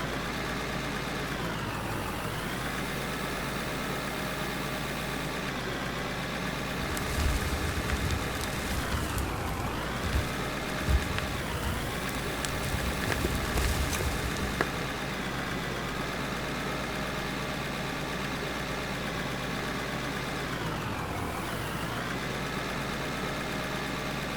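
Tractor engine in the mining game Out of Ore, a steady low mechanical drone with gentle pitch sweeps as the revs rise and fall, a bumpier, clattering stretch in the middle, and no voices.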